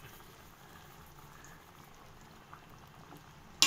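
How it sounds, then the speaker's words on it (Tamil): Chicken gravy bubbles in a covered pot with a soft, steady simmering fizz, ending in a sudden loud, sharp noise. "கொஞ்சம் கொதிச்சு வர ஆரம்பிச்சதும்"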